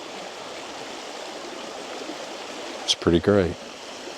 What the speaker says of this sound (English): The sound of moving water is like a siren call from me.